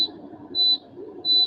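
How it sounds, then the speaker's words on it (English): Three evenly spaced high electronic beeps sound in the background, each short and steady, over a low murmur of room noise. "Somebody got some background noise, y'all. Some beeping."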